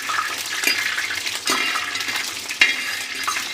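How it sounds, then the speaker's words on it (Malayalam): Dried red chillies and mustard seeds crackle in hot oil, a bright close sizzle punctuated by a few metallic stirring clinks and scrapes, with no talking. "ഇനി നമുക്ക് അതിലോട്ട് വറ്റൽമുളക് ഇട്ട് കൊടുക്കാം."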